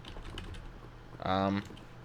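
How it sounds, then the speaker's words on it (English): Keys pressed on a computer keyboard during a game stream, a short loud burst of rapid clicking near the mic, standing out from quieter background noise. "Sometimes I accidentally hit my G keys on the side of my keyboard"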